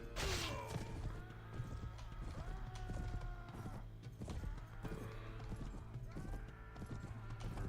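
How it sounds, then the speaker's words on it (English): Horse hooves clip-clopping in a Game of Thrones game mod, a close, loud run of hoof beats mixed with creaking and mechanical clatter, the rhythm loosening as the horse slows. "now the horse is slowing down"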